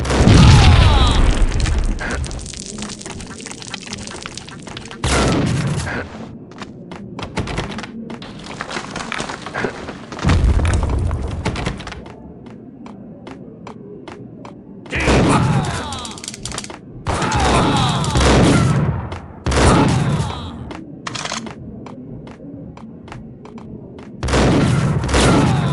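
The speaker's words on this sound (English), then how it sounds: "They're bombing us!" Bombing explosions and gunfire in the mobile video game Max Payne, with loud booming blasts and bursts of shots arriving in heavy waves separated by quieter gaps, all close and dominant.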